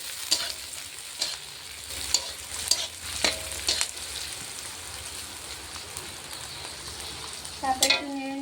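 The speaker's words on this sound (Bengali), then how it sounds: "তারপরে হালকা একটু নেড়ে কাঁচা লঙ্কাগুলো দিয়ে দিচ্ছি।" Green chillies stir-fry in a hot pan, with a steady sizzle broken by repeated sharp scraping clicks of a spatula every second or so and a louder clatter near the end.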